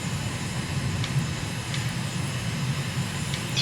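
A light aircraft's engine in Microsoft Flight Simulator drones steadily over Srinagar, Kashmir, a constant moderate hum with no pauses and no speech over it.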